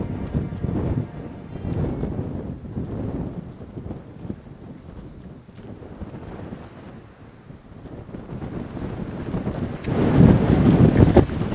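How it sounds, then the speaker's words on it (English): Cold, gusty wind buffets the microphone on an open fell hill beside Beacon Tarn in the Lake District. Steady low roaring rises and falls, then surges louder near the end, with no voices. "On a cold and windy day like this"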